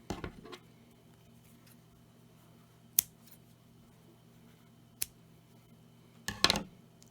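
Scissors snip crochet yarn on an amigurumi toy, a few sharp isolated cuts spaced seconds apart against near silence, ending with a quick double snip.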